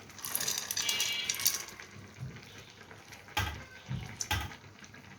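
Washed red lentils are tipped into a cooking pot for a Bangladeshi lentil dish, giving soft wet splashes and light watery clatter, with two sharper pours near the end, all fairly quiet.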